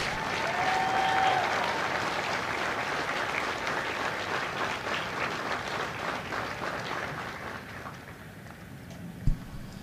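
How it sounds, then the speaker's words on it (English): A crowd at a Marine Corps company graduation ceremony at MCRD San Diego applauds the India Company staff: dense, sustained clapping that stays steady for about ten seconds, thins slightly toward the end and is broken by one brief thump. "please join me in a round of applause for the company staff of Company I"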